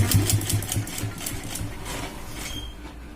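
A sewing machine stitches a blouse sleeve in a fast, steady mechanical rattle, close and loud, slowing and fading toward the end.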